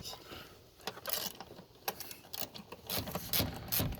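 A ratchet wrench clicks while backing out an 8mm screw on the idle air control valve of an early-2000s Honda Civic, with quiet metallic ratcheting and small clanks up close, no talking.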